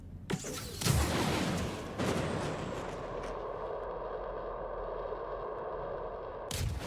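A stealth missile bolt fires a salvo of 24 size 2 missiles from a Taurus ship in the space game Star Citizen, giving sharp launch bursts, a rumbling whoosh and a long dull drone before a final loud impact.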